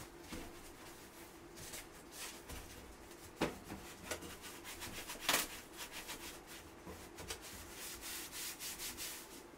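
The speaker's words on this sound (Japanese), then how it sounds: "フードの内部に油落とし洗剤をかけスポンジで洗浄します。" A sponge scrubs degreaser around the inside of a kitchen range hood, producing faint, continuous rubbing and swishing strokes with a few louder scrapes, close to the microphone.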